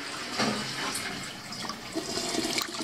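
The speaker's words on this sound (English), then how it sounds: "A little flush." Small toilet in a hotel bathroom flushing, a gushing rush of water that swells and then trails off into gurgling refill noise, close and alone.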